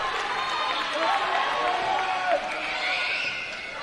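A packed crowd at the Davis Fieldhouse stands and cheers during a set point in an NCCAA Division II women's volleyball national championship match, a steady roar of voices and shouts with a commentator talking over it throughout.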